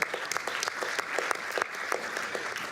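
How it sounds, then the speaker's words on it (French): Audience at a public procurement forum claps for a newly introduced speaker, a moderate burst of scattered hand claps at medium distance, fairly quiet and short. "Je pense qu'on peut l'applaudir aussi d'être là."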